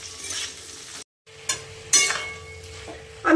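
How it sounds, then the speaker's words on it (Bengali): Potatoes frying in a pan give a steady, soft sizzle broken by a brief silence and a few sharper clinks of stirring, close and moderate in level. "চলুন ওইটা আলু ভাজতে বসিয়ে দিয়েছি।"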